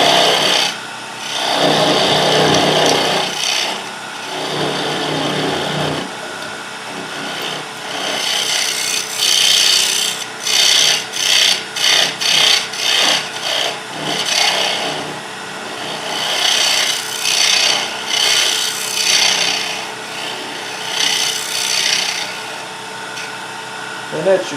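Wood lathe turning a dinner plate while a tool cuts the recess, loud scraping and rasping bursts that come in uneven passes, some rapid and choppy, close to the microphone with pauses between.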